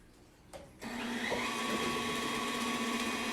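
An electric mixer switches on after a brief knock and then runs with a steady, loud whirring hum, creaming cookie batter for homemade Nutter Butters in a kitchen.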